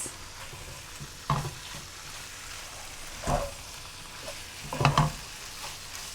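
Butter chicken masala with garlic is stirred in a hot pan over high heat, a quiet steady sizzle with a few louder scraping stirs near the close.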